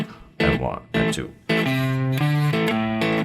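Guitar plays a verse variation riff as a few short chord stabs followed by a steady strummed rhythmic figure, close and clear, with no talking over it.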